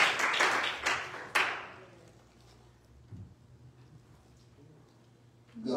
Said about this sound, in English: Will you clap again?